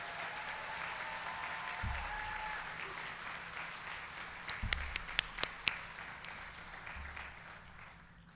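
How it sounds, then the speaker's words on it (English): Audience at a college commencement ceremony applauds in a steady, continuous wash of clapping that stays fairly soft and distant, with a few sharper claps standing out near the end. "Let's give them a well-deserved round of applause."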